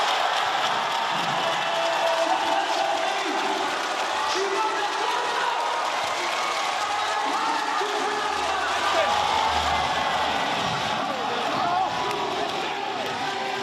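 Taoyuan Pilots home crowd at an indoor professional basketball game roaring during a timeout, a dense sustained cheer with shouts and claps, steady and loud, mixed with faint voices.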